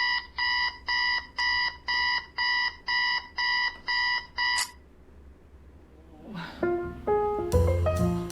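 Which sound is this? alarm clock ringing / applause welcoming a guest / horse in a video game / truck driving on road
alarm clock ringing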